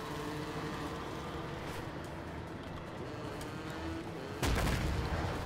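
A loud sudden explosion blast bursts out near the end of a steady rumbling battle din in the video game A Way Out, cutting in abruptly after a stretch of continuous background noise.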